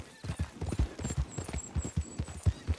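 Horse hooves clip-clop in a steady galloping rhythm as a rider crosses ground in Red Dead Redemption 2, close and clear with a low hum beneath and no talking.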